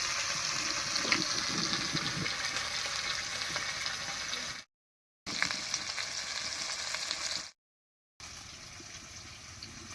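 Mourala fish frying with onions in a kadai, a dense steady sizzle that runs loud and close, cut by two brief silent gaps before resuming.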